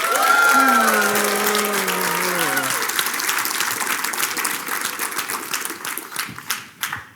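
Conference audience of Christian college provosts, deans and academic directors bursting into applause, opening with a few loud voices whooping over the clapping, then sustained dense clapping that thins toward the end.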